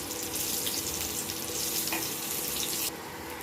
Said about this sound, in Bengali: আলুটাকে ভালো করে ভাজ